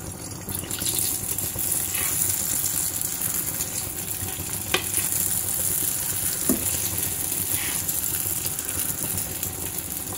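Mixed dal bhaji fritters frying in hot oil, a steady close sizzle with soft bubbling and a few faint clicks, no voices.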